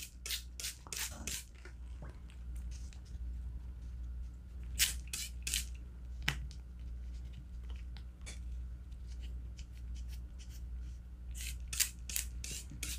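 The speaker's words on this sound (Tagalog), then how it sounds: "spray lang natin, spray" A hand spray bottle mists water onto a succulent arrangement in a dish, giving short bursts of soft hissing spray in quick clusters, close and fairly quiet, with pauses and light handling noise between.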